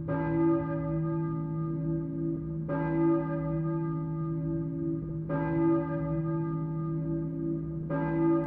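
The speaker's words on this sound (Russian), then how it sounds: "Церковный колокол. Ну кто в него звонит?" Church bell tolling in the horror video game Silent Hill 3, four slow, heavy strikes at an even pace, each leaving a long ringing decay that carries into the next, with no voices.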